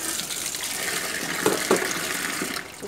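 Peeled shallots are rinsed under a running kitchen tap, a steady soft stream of water with a couple of brief splashes near the middle, heard alone.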